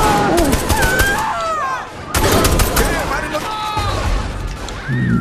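Gunfire in the video game Saints Row The Third, repeated loud shots and crackling bursts mixed with game effects and whistling tones, with people talking over the action.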